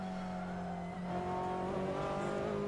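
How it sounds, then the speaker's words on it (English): Ferrari 458 GT3 race car in the Assetto Corsa racing game, a steady loud engine drone with a held tone and faint tyre noise, running continuously without talk. "This is the Ferrari 458 GT3."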